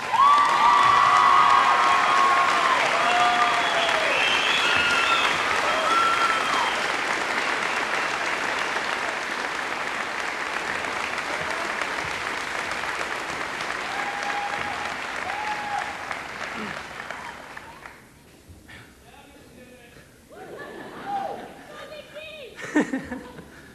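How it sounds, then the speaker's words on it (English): A high school graduation crowd at Farmington High School applauds the class advisor, with strong clapping, cheers and some laughter that gradually thin out, followed by scattered claps and murmuring voices near the end. "I'd like to have a round of applause for our outstanding class advisor, Mrs. Dimmick"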